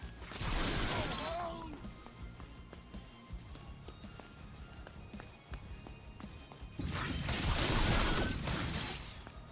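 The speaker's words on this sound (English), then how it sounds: "Somebody just got shot with a lot of bolts." Bolt traps firing into enemies in Orcs Must Die! Deathtrap, a dense clatter of impacts and mechanical snaps with two loud bursts of shattering hits at the start and end, separated by a quieter rattling stretch of game action.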